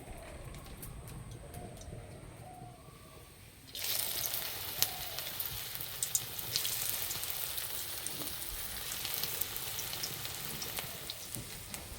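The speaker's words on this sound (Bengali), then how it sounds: "পকোড়াগুলো ভাজার জন্য কড়াই দেবো সাদা তেল।" Potato pakoras hit hot white oil in a wok and break into a dense, steady sizzle that starts abruptly and continues loudly, with occasional sharp crackles.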